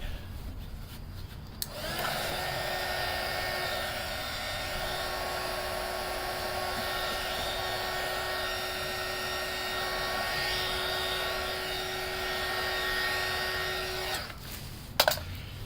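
Heat gun blowing hot air on a mirror cap of a 2015 Infiniti Q50, a steady close whirring hiss that switches on after a moment and runs unbroken for about thirteen seconds before cutting off with a click.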